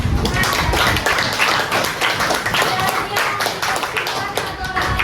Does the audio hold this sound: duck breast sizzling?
no